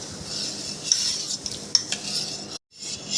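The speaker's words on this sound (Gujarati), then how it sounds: "આ રીતે આપણે ખાંડ બધી ઓગાળી લેવાની છે." A spoon clinks and scrapes against a pot while milk is stirred to dissolve sugar for a muskmelon milkshake, with repeated light metallic taps in a quiet kitchen and a brief silent gap near the end.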